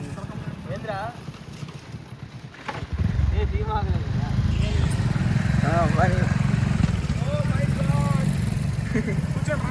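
A motorbike being ridden, its engine swelling into a loud steady drone after a few seconds of wind buffeting, with people talking over it.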